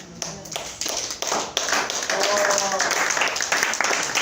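A church congregation clapping to acclaim God during a French-language Bible study: steady, dense clapping from many hands, continuous and building slightly, with voices mixed in.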